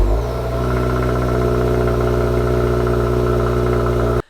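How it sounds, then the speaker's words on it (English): A 2024 Subaru WRX TR on a loud cold start, its stock engine idling with a deep, steady droning exhaust note held close and loud for several seconds before cutting off abruptly. "Something else I dislike is how loud the cold start is on this car."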